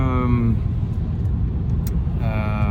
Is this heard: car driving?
yes